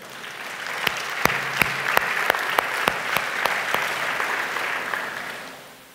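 A church congregation at a Sunday service claps in a burst of rhythmic applause. The claps build, hold steady, then fade out over several seconds.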